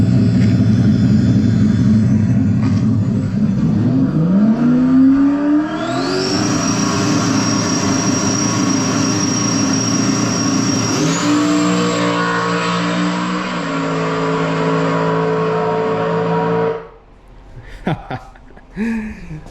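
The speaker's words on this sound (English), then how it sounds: "here's a video of Brad's car on a 490 pass" A drag race car making a full pass, its engine roaring loud and close as it launches and climbs steadily through the revs for several seconds, then cutting off abruptly near the end with no talking over it.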